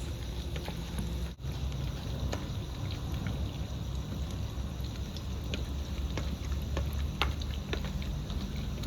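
Food fries in a pan while a tomato-and-chili mixture browns, producing a quiet, steady sizzle with scattered soft pops and crackles heard close up.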